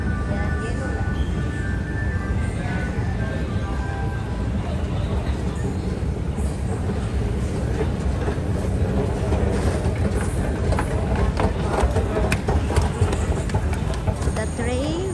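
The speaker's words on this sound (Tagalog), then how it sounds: "The train is here already." A metro train pulls into a Yellow Line station with a steady low rumble and rolling clatter, surrounded by platform noise and people talking throughout.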